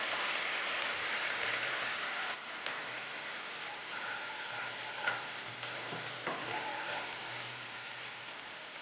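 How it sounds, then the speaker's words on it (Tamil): Chicken pieces roast and fry in a hot pan with a steady, close sizzling hiss, broken by a few faint clicks and scrapes of stirring. "இப்போ இந்த கறியை போட்டு ரோஸ்ட் பண்ணிக்கலாம்"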